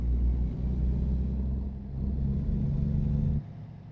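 A Volvo truck engine in American Truck Simulator rumbles with a steady low drone, rising slightly in intensity before easing off near the end; no one speaks.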